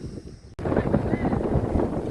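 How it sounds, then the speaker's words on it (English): Strong gusting wind buffets the microphone aboard a sailboat on a blustery day off Croatia, a loud, steady roaring rush that cuts in abruptly after a brief quieter moment and persists throughout. "it's a really, really blustery day today. Forecasting some gusting winds."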